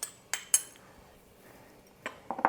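Minced garlic goes into an Instant Pot with a few sharp metallic clinks and taps of a utensil against the inner pot, scattered brief knocks separated by quiet pauses, close and clear.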